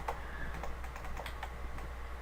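Rapid mouse clicks in a Minecraft skin editor on a computer, a steady run of light, close taps over a faint constant hum, with no talking.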